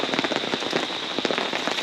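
Heavy rain pouring during a severe thunderstorm while hammock camping, a dense, loud, continuous patter of drops drumming on nearby surfaces with no gaps.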